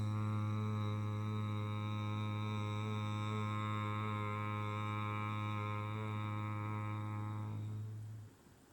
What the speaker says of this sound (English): Close your lips, and instead of letting any air out, what you're going to do is hum.